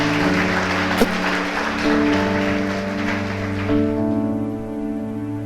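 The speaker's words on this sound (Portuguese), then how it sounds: "Você pode aplaudir o Senhor?" A church congregation applauds together during a Portuguese-language sermon, a steady, dense wash of clapping that carries on over sustained music and thins out toward the end.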